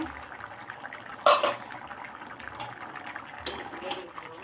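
A lid comes off a pot of boiled masoor lentils and potatoes with one sharp metallic clank, then a softer clatter of the lid a couple of seconds later, over a faint steady kitchen background.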